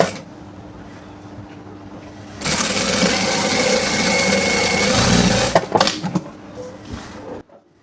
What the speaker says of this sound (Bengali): তারপরে এইভাবে আরেকটা সেলাই দিয়ে নেবেন লেচের মুখে মুখে।